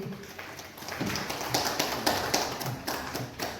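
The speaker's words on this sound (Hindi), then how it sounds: "इस बेटी को सम्मानित करने के लिए जोरदार तालियां हो जानी चाहिए" An audience at a women's honouring ceremony in India claps steadily, a dense, continuous patter of hands from a crowd that holds at an even level throughout.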